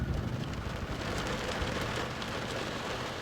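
Steady rain pours down over a refugee camp near Fukushima, a dense, even hiss of drops hitting surfaces that holds without a break from start to end.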